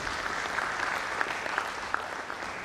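Audience applause at a university management sciences conference, steady dense clapping from a crowd that holds evenly throughout, with a few sharper individual claps standing out.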